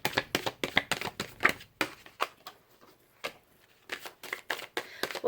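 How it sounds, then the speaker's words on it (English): Tarot cards being shuffled by hand in a quick series of crisp riffling bursts, each a short papery flutter separated by brief pauses, close and clear with no talking. "I'm going to do a quick shuffle"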